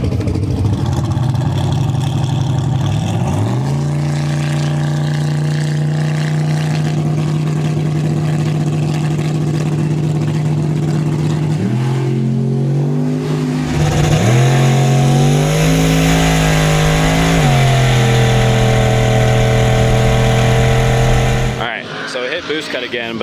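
Turbocharged car, a turbo small-block Chevy Jeep or turbo LS 240SX, launching on a test run, engine roaring loudly and climbing through gear changes with rising pitch for about twenty seconds before cutting off abruptly.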